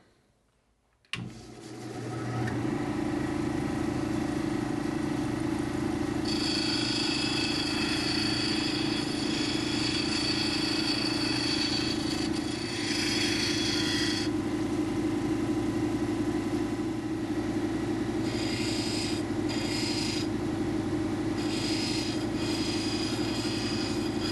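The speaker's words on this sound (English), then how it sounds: "I got my groovy cab back here at the cab machine" Cabbing machine with hard grinding wheels shaping the domed top of a lightning stone cabochon for a pendant, a steady close motor hum with loud rasping grind bursts as the stone is pressed to the wheel, no talk.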